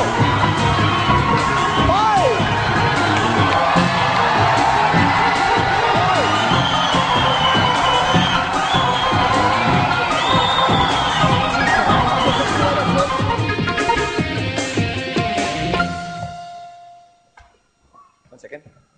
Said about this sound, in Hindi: आप लोगों की तालियां होंगी माम के लिए।